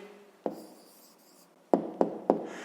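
Pen writing down an answer on paper: a few soft taps and scratches, one near the start and three quick close strokes near the end, faint and close with no talk.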